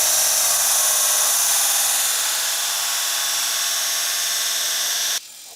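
A belt sander running 100-grit abrasive grinds the steel of a square tube, a loud, continuous high-pitched whir that holds steady before cutting off suddenly near the end.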